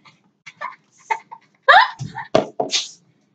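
A single sharp sneeze from a sick young woman, preceded by a few soft breathy sounds and sniffles in a quiet room, loud and close.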